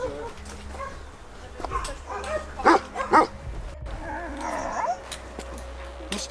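A dog barks a couple of times at a distance in Montenegro, short sharp yaps over steady background rumble and scattered noise.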